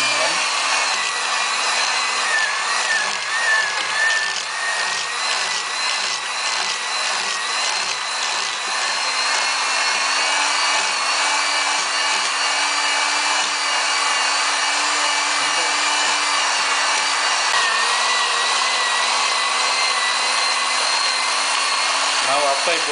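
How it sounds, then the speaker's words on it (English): Electric hand mixer creaming butter for a traditional Christmas plum cake, a steady close whirring motor drone that runs continuously without pause, with faint kitchen clatter underneath. "I've started with the creaming."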